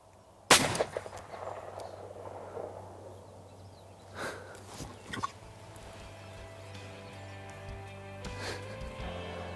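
A single loud shotgun blast while turkey hunting cracks sharply near the start, then rings off into quiet outdoor ambience with a few faint rustles and a steady low hum.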